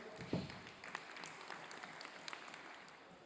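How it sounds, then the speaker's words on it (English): Audience applause at an international Sahasranama recitation event: a steady, fairly faint crackle of many hands clapping for a few seconds, with one louder burst near the start. "let us clap for all the articles"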